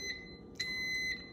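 Electronic beeps from a microwave oven timer signaling the end of a two-minute cycle during cleaning: a few short, clear tones in a quiet kitchen, one near the start and one louder at about the middle.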